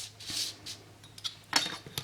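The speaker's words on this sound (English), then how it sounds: "So you just line it up like here and then drag the X-Acto knife" An X-Acto knife drawn along a straight edge slices paper on a cutting board, giving a few short, close scraping and ticking strokes separated by brief pauses.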